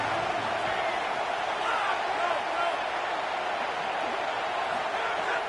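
Crowd noise swelling in a stadium after a big third-down play in an NCAA college football video game, Texas versus Oklahoma, a steady dense roar running throughout beneath a commentator's play-by-play talk.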